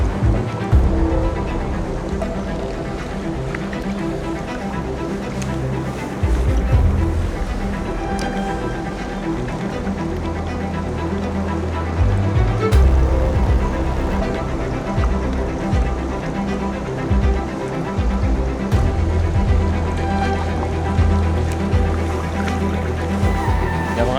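A rushing mountain torrent near the weirs of an old abandoned mill, heard as a loud, continuous broadband roar of churning water, steady and close throughout with no voices.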